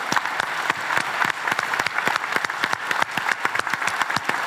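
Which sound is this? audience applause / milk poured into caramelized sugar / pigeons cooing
audience applause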